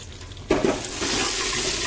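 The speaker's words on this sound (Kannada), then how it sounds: "ಇವಾಗ ಚಟಪಟ ಅಂತ ಸಿಡಿತೈತೆ ಕರ್ಬೇವು ಹಾಕ್ಕೊಳ್ಳೋಣ" Curry leaves dropped into hot oil in a pan, a sudden close sizzle that settles into a steady crackling hiss.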